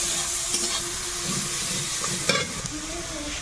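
Pointed gourd and potatoes frying with ginger-garlic paste, green chilli, turmeric, salt, coriander and cumin powder, giving a loud, steady sizzle and close stirring scrapes, with a sharper clatter of the spoon partway through.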